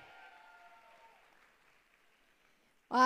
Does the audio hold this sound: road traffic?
no